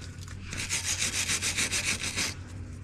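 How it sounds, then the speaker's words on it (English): A wire brush scrubs a rusty brake disc on a Ford Fiesta ST 150, producing a steady run of rapid, rhythmic rasping strokes close up, about two seconds long, over a low background hum. "we're going to give this a quick go over with the wire brush"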